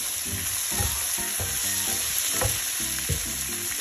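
Tomatoes frying in a pan for a shrimp stir fry give off a steady, close sizzle, with repeated low scraping knocks as the mixture is stirred throughout.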